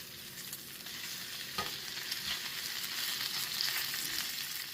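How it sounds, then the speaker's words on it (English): Bacon fries on a 21-inch VEVOR commercial electric countertop griddle, giving a faint, even crackling sizzle that rises slightly over a few seconds, with one or two soft taps. No one speaks. "So I'm going to fry up this bacon."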